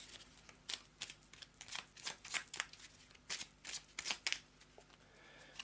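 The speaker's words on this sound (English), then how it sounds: "Shuffle them back in." Cards being shuffled for the Secrets of the Lost Tomb board game, a series of soft riffling bursts and taps at close range, fairly quiet with short pauses between them.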